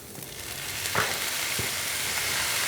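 Soy sauce sizzling as it hits a hot frying pan with garlic while making lettuce wraps, a loud steady hiss with a couple of soft clinks of stirring.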